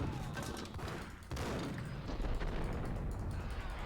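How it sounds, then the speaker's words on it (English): Heavy gunfire and a blast in Max Payne, with a sudden loud burst midway followed by a sustained rumbling roar of shots and explosion debris, no voices present. "Wait, that's a grenade."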